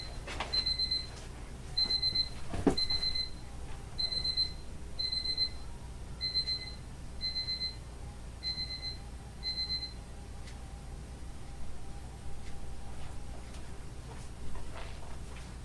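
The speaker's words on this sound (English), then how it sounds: "That's my alarm telling me it's time to take my walk." A double-beep alarm reminding someone to take a walk chimes repeatedly in a steady rhythm for about ten seconds against a quiet room, then stops, leaving faint background noise.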